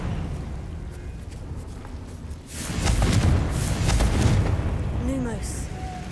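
A Confringo blasting spell in Hogwarts Legacy bursts into a loud, rumbling explosion partway through, following a quieter stretch and trailing off into lingering crackle and debris.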